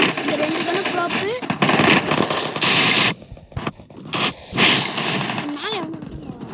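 Loud, rapid bursts of gunfire from a shooting video game rattle on and off, with a person talking over the shots.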